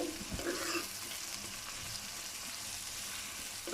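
Three medium onions frying in oil in a pan, a dense, steady hiss of sizzling with a few stirring clatters near the start, close and moderately quiet with no talk.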